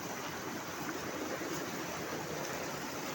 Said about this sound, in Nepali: यहाँ खोला छ